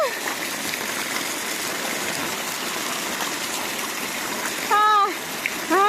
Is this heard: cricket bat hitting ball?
no